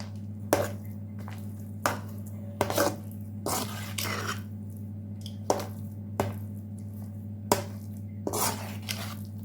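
Thiruvathirai kali stirred in a pot, a string of spaced clanks and scrapes of a spoon against metal over a low steady hum.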